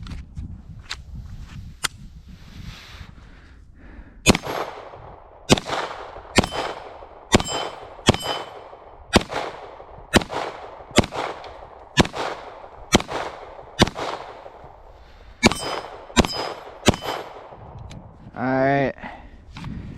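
Canik Mete SFX pistol fired repeatedly at bowling pin targets outdoors, about twenty sharp close gunshots in irregular bursts, some with metallic clangs from hits, followed by a short burst of speech at the end.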